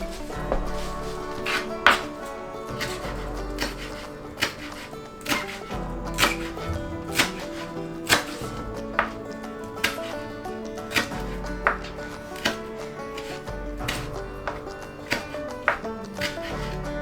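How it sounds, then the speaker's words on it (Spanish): Fresh cilantro chopped finely with a knife on a board for homemade tacos, a steady rhythm of crisp, close knife strikes over quiet background music. "y ahora por último vamos con el cilantro picadito"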